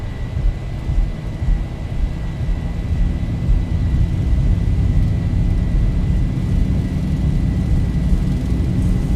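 Steady, loud roar of Boeing 737-600 jet engines spooled up to takeoff thrust in X-Plane 11, a continuous low rumble with a faint high whine, holding constant throughout with no voices.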